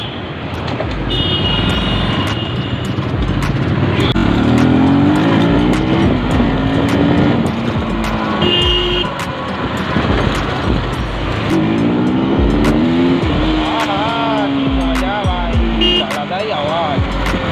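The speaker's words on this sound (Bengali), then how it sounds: "সাইলেন্সারে যদি এরকম আওয়াজ হয় মানে অরিজিনাল সাইলেন্সারে কেমন আওয়াজ হবে?" A motorbike engine revs through an aftermarket silencer exhaust, rising and falling in loud, close, throaty sweeps, with a voice briefly audible in places.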